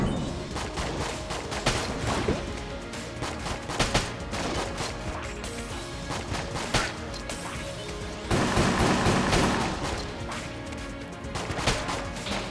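Dense, continuous gunfire from the twin-stick shooter Enter the Gungeon, rapid overlapping shots and impacts forming a busy, loud barrage for the whole stretch, with no talking.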